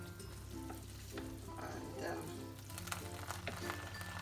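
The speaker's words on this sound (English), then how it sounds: "I'm just stirring it to make sure that we have an evenly cooked rice." Ghanaian jollof rice sizzles steadily in a pot while being stirred, a close continuous frying hiss with soft scraping of the spoon.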